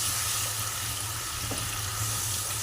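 Bengali vegetarian potato and cauliflower curry fries in a pan after spiced water is added, giving a steady, close, even sizzle that stays constant throughout with no speech.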